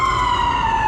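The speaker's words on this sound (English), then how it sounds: "There has to be a darn siren getting closer and closer." A New York Presbyterian ambulance siren wails in a steady, loud, sustained tone close by on a New York City street, with no voices over it.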